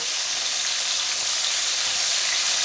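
Butter sizzling in a hot pan while a breakfast sandwich is cooked, a steady, dense, close hiss and crackle that holds at an even level throughout, with no voices.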